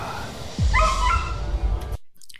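A dog gives a few sharp, high-pitched yelping barks, close and fairly loud, over a low rumble, then everything drops to near silence.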